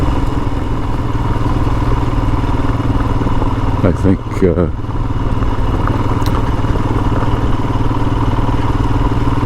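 A Royal Enfield Himalayan dual-sport motorcycle is ridden through state game lands, its engine holding a steady, even drone throughout while someone talks briefly over it.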